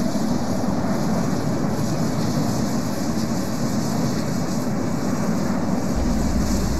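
An airplane takes off in the Roblox flight game Aeronautica, its engines a loud, continuous roar that holds steady from start to finish.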